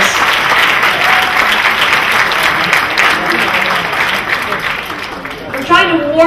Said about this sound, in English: Big round of applause, a big thank you to the restaurant,